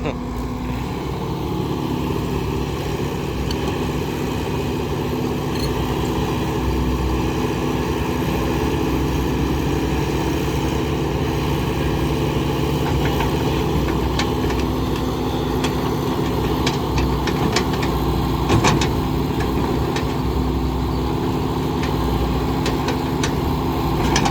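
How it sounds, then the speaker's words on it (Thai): A backhoe excavator's diesel engine idles steadily and close by for the whole stretch, a continuous low rumble with a few faint clanks and bumps over it. "ก็มาขับแมคโครเล่นครับ"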